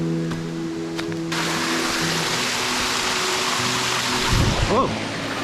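Waterfall flowing in the El Merendón area of Honduras, a steady broadband rush of falling water that holds loud and continuous throughout, with faint tonal sounds near the start and a brief vocal sound near the end.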